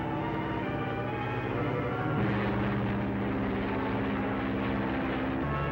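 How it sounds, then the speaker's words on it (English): A propeller airplane sound effect from a 1947 bush pilot movie, a steady droning engine hum that continues throughout and shifts pitch slightly. "There's some Foley guy just making airplane sounds for this."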